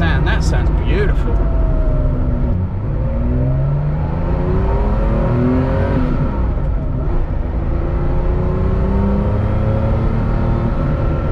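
A Porsche 930 Slant Nose (Flachbau) turbo engine revs hard as the car accelerates on the road, a loud continuous roar rising and falling through gears with pops and crackles, with someone talking over it.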